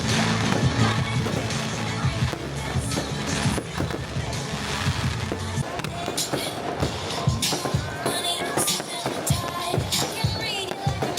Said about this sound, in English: The fireworks illuminated the night sky with brilliant colors, creating a stunning visual display.